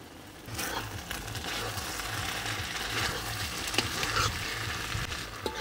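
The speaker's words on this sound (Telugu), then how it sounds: "ఇప్పుడు కొంచెం కొత్తిమీర, ఉల్లికాడలు కూడా వేసుకుని బాగా కలుపుకుందాం." Veg Manchurian being stirred in a hot pan with coriander and spring onions added, a steady close sizzle broken by repeated scraping strokes of the spoon against the metal.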